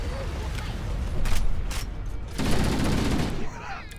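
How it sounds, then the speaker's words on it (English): Magnum pistol rounds fire in Halo: Combat Evolved, several sharp shots in quick bursts over busy game combat noise, with a player talking in between. "This Magnum pistol is so OP in this game."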